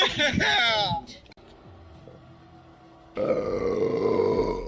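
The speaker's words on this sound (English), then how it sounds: "That was a big burp." A big, loud burp erupts right away and lasts about a second, followed by a quiet pause, then steady background noise. People are chatting on a live podcast stream.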